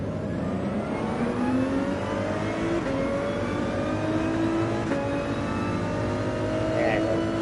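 A race car in Gran Turismo 7 accelerates through rising gears, its engine tone climbing and shifting steadily under a continuous mid-level drone with a voice talking over it.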